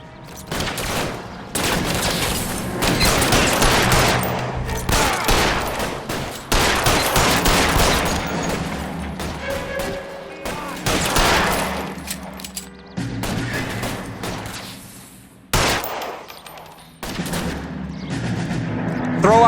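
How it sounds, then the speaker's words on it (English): Heavy gunfire from a shootout in the video game LA Noire at the Nicholson Electroplating plant, with dense volleys of shots and booms going almost nonstop, loud and close, a few short lulls between bursts. "Fire a warning round."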